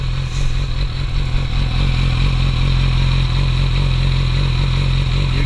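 A 2014 Yamaha R6 motorcycle fitted with a Radiant short pipe exhaust idles steadily and loudly up close, its deep, even engine drone running unbroken throughout.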